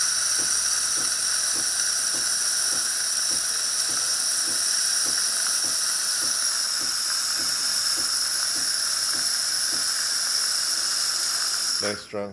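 Saeco Intelia espresso machine steam wand letting out a loud, steady hiss that runs continuously and close up, with a faint rhythmic pulsing beneath it before cutting off abruptly at the end.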